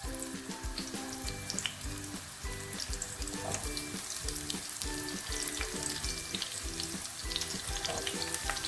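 Onions frying in hot oil in a pot for a sausage stew, a steady close sizzle with crackling pops and occasional stirring scrapes, no voices.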